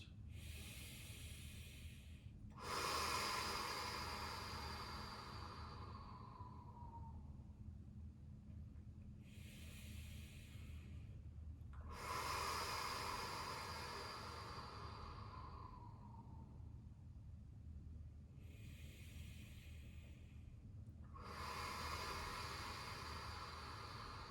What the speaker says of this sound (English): 5 nice deep breaths in, deeper breaths out